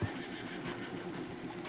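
Horse neighing in Red Dead Redemption 2: a short, fairly faint whinny with hoof clip-clop and ambient noise underneath, no talking.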